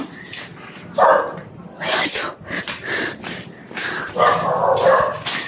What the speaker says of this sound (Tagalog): Uy, may aso. May aso.